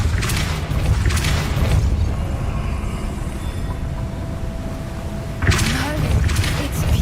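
Depulso force spell cast in the Hogwarts Legacy video game: a couple of loud, broad whooshing blasts near the start, a quieter humming stretch, then another forceful burst near the end.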